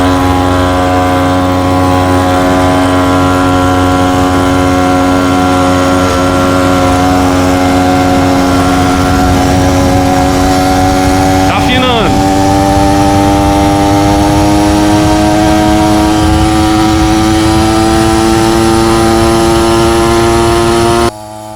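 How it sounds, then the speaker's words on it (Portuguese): A motorcycle fitted with a small brushcutter engine revving at full throttle, a loud, high, buzzing two-stroke whine held close and steady, pitch creeping upward, with a brief dip in the middle. "teste de velocidade no nosso motor de roçadeira na moto."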